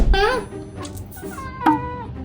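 A house cat meows twice, close and clear, with short bright tonal calls, one at the start and one near the end.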